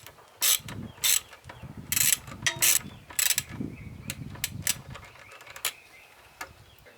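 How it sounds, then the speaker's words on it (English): Tightening a small hose clamp on an engine hose during PCV work on a BMW M52/M54 straight-six, giving a run of sharp metallic clicks and ratcheting bursts, close and fairly loud, with quieter handling noise in between. "And don't forget to tighten that little hose clamp that we put on this hose."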